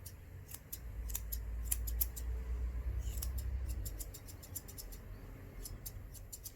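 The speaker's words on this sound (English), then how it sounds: "I'm going to totally be using my curved scissors because he's getting like a bichon head" Curved grooming scissors trimming the face hair of a small dog into a rounded bichon-style head, giving quick clusters of crisp, close snips in uneven bursts over a low steady hum; no talking.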